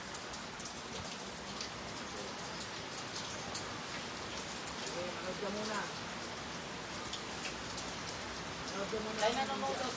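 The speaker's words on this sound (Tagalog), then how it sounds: "Ang lakas ng ulan." Heavy rain falling under a dark sky, a steady dense hiss of drops pattering on surfaces throughout, fairly close, with a voice speaking faintly beneath it.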